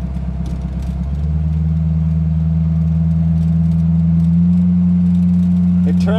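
1932 Ford Model Y hot rod engine running close by, a steady low rumbling idle that settles into an even drone after a brief rise, loud and continuous.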